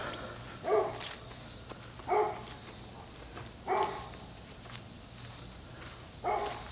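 A neighbor's dogs bark outdoors at some distance in a fenced yard, five separate barks spaced about a second or two apart over faint background noise.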